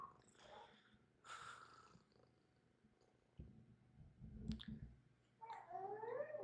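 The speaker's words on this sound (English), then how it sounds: "ASMR cat sounds happening now." A cat purrs and rubs against a close microphone, giving soft rumbling purrs and muffled bumps and scrapes in uneven bursts, with faint voice-like sounds in between.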